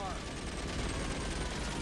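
Machine gun fire in the video game LA Noire rattles as a dense, continuous burst of rapid shots that blurs into steady noise across the whole moment, fairly quiet and unbroken.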